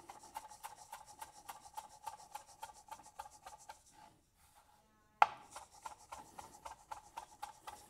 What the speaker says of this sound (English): We'll pick all the dill first and then we'll chop it up.